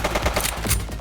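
Rapid bursts of video-game gunfire crackle loud and close in The Precinct, a police game, with several quick shots packed into about a second.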